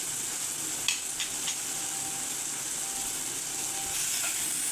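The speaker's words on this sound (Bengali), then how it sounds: "2 মিনিট আমরা মশলাটাকে ভালো করে নাড়াচাড়া করে ভেজে নিয়েছি।" Spices stirred and fried in a pan for an ilish (hilsa fish) curry, a continuous close hiss and sizzle with a few sharp scraping taps of the stirring utensil near the start.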